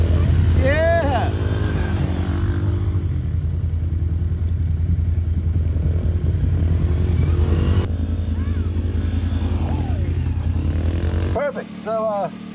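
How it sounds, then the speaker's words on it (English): A Can-Am off-road vehicle's engine drones loud and steady as it drives, a constant low rumble throughout, with people talking and calling out over it. "Addie, you want to drive the Can-Am back and go ride stuff?"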